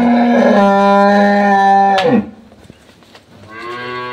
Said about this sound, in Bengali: এই 4টা জিনিস মিলে একটা গাবি। একটা গাভী।